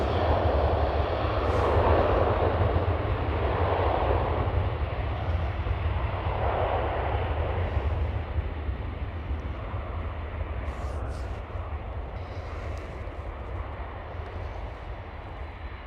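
Delta Air Lines Airbus A330 jet at Schiphol, Amsterdam, producing a steady broadband engine roar that holds loud and then slowly fades as the aircraft moves away.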